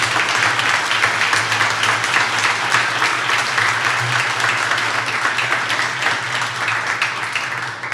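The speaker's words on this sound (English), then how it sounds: "Give them a round of applause, please." An open-house crowd applauds donors: dense, sustained clapping from many hands, loud and steady for several seconds before easing slightly at the end, with no one speaking over it.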